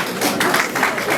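Applause at a civil wedding ceremony, a crowd clapping in short uneven bursts, fairly loud and close, lasting only a moment.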